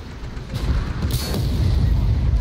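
A tank cannon firing in Armored Warfare, a deep boom with a brief crack and rumbling tail over steady engine noise.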